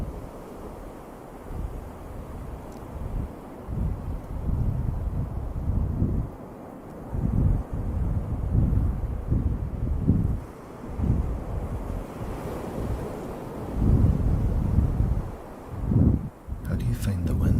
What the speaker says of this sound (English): How do you find the wind? Is that a bit too much?